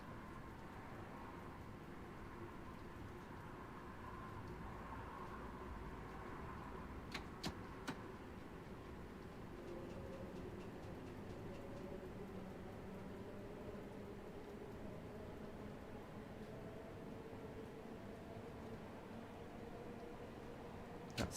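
Bakerloo Line train in Train Sim World 2 rolling downhill under light braking: a steady low rumble and hum with faint ticking clicks from the track, continuous and moderately quiet throughout.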